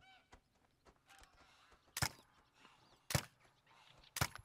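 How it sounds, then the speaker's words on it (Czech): Canada geese honking in the hunting game The Hunter: Call of the Wild, three loud sharp calls spaced about a second apart over fainter scattered honks and background ambience. "A to jsou husy kanadský."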